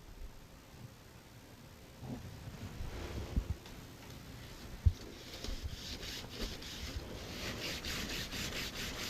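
Firm rubbing over a wax strip on a leg, soft repeated scuffing strokes at close range, quiet at first and then more regular and rhythmic, with an occasional light tap.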